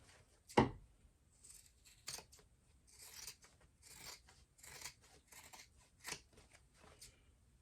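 Scissors trim the seam allowance on a fabric clutch, starting with a sharp click, then a run of soft, close snips through cloth at an uneven pace, with no talking.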